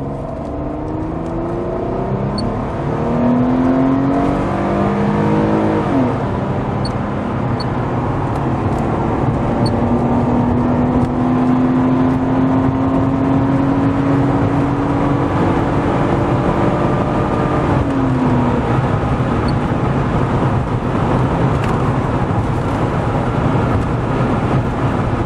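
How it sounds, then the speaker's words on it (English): An Oldsmobile Shortstar V6 car with adjusted timing makes a 0 to 60 acceleration run. The loud engine drone rises in pitch, drops at a gear change, then climbs again before easing off. "We're going to try another 0 to 60 run here."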